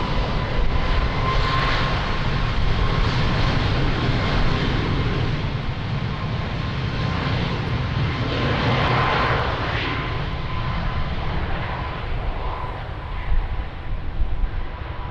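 Airplane at Lisbon Airport on its takeoff roll in windy conditions, a steady, heavy engine roar lasting throughout at constant loudness, with no voices.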